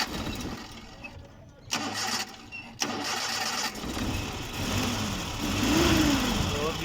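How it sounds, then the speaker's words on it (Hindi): A Suzuki Ravi engine cranks with a few sharp starter bursts, catches and settles into a steady, close running hum that swells toward the end, with a voice speaking briefly over it. "तो अब हम गाड़ी स्टार्ट करते हैं जी।"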